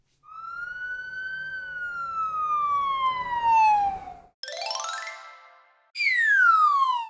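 Police car sirens play alone in short bursts: a long descending wail, then a quick rising electronic yelp, then another falling wail, clear and close.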